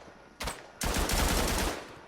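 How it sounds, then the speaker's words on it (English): A machine gun in the WW1 video game Tannenberg fires: a short burst, a brief gap, then a longer rapid rattling burst that fades out, loud and close with no speech. "Let's get the machine gun."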